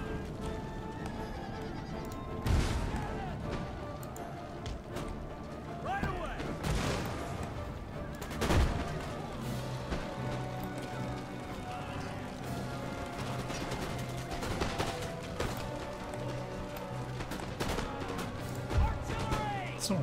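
Musket volleys crack across an Empire Total War battlefield, scattered sharp shots and heavier booms ringing out at irregular intervals over a busy, rumbling battle din.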